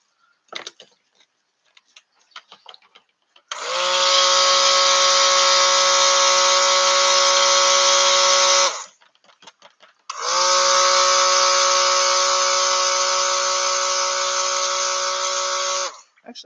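An electric blender whirs through handmade vegan soap batter in a mold, two long steady high-pitched buzzing runs of several seconds each, separated by a short pause with light clicks and handling noises.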